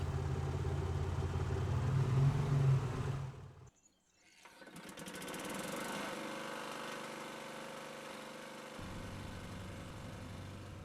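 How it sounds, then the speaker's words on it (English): A small lawnmower engine from the video game The Gardener drones steadily and loudly, cuts out briefly, then returns as a quieter running hum. There is no talking. "I like the little lawnmower"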